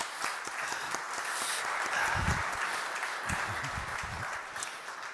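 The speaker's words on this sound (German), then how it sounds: "Bitte begrüßen Sie mit einem herzlichen Applaus." An audience claps warmly to welcome a speaker onto the stage at a conference event, a dense, steady wash of applause sustained for several seconds with scattered louder claps.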